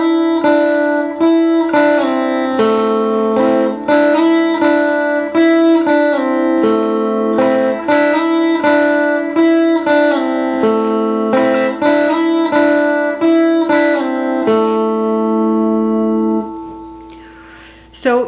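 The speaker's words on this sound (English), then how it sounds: "The next time you hear the guitar, it is doing riff 1, which sounds like this." Guitar playing the first riff of a song, a repeating pattern of ringing plucked notes on the upper strings with steady rhythm, loud and close, alone with no talking, the final chord sustaining and fading.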